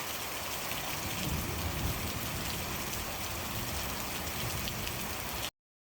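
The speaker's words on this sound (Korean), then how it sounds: "4시인데 하늘이 번쩍번쩍 연속으로 번쩍거리면서 한바탕 시원하게 퍼붓고 있습니다" A heavy summer downpour during a thunderstorm roars in a dense, steady hiss of pouring rain, loud and unbroken, then cuts off abruptly near the end.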